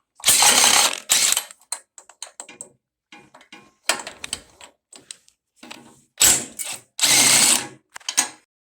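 Head bolts are ratcheted out of a Briggs & Stratton 18.5 horsepower engine on a John Deere LA100 mower, with several loud bursts of quick ratchet clicking separated by quieter clinks and pauses, close up and with no talk.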